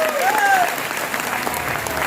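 Hearty audience applause at a business plan presentation event, a steady wash of clapping filling the hall, with a few whistles rising over it.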